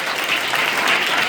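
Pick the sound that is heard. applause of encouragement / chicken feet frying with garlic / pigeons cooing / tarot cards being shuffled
applause of encouragement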